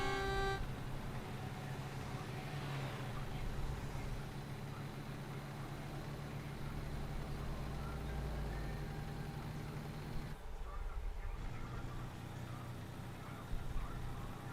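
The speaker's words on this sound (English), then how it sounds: "Hey, I do have an air horn." A deep, sustained truck air horn in American Truck Simulator blares over a steady low engine rumble that keeps droning throughout.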